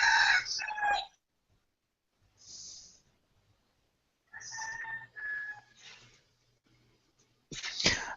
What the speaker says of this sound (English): do I hear chickens?